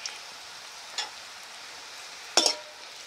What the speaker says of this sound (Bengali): হলুদ দিয়ে একটু নাড়াচাড়া করে নেব।